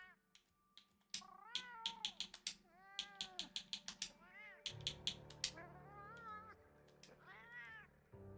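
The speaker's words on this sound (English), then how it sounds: "That's only like 2 types of cat voices." Cats meowing in the video game Monster Hunter Wilds, a quick run of short, bright meows and yowls in varied pitches, close and clear, with a soft background hum and quiet talk underneath.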